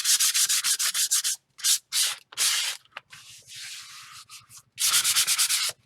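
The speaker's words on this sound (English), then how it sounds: "sanding it also makes sure that all the little edges of all the papers are down" Rhythmic, scratchy sanding strokes rub back and forth up close over the paper edges of a postcard, in quick bursts separated by brief pauses, with no voices.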